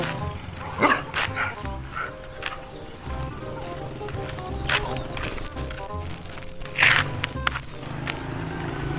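A pet dog outdoors at home yelps and whimpers in short, loud bursts while a person coaxes it in with repeated calls.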